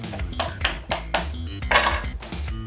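A fork docking sticky toffee pudding bar dough pressed into a metal sheet pan, a run of sharp irregular metallic taps and scrapes, close and fairly loud, with no talking.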